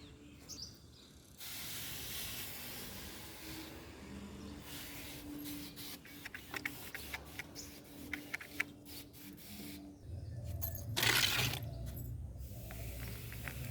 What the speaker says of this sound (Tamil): இப்போ இந்த மிளகா செடியில் மேலாம் ஸ்ப்ரே பண்ண போகிறேன்